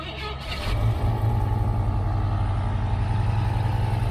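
A Ford Mustang Foxbody engine cranks and fires up about half a second in, then settles into a loud, steady idle with a deep low rumble and a slight skip, close by.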